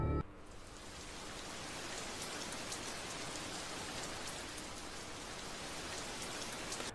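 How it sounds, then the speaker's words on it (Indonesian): Steady rain pours down evenly for the whole stretch, a dense, close hiss of drops on surfaces with no voices, heard on a road home at night. "Tapi tiba-tiba gerimis datang. Mereka memutuskan untuk menunggu, tapi hujan itu cukup lama."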